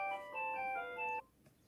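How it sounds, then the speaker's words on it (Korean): An electronic school bell rings at a school, giving a steady multi-tone chime that holds for about a second before cutting off into a quiet room. "지금 학교에서 요거 강의를 녹화하고 있어서 벨이 울렸네요"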